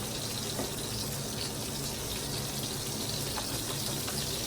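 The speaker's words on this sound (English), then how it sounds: "I think my water is coming to a boil here" A pot of water on the stove coming to a boil, a steady, soft hiss and bubbling wash that continues evenly and quietly throughout, with no voices.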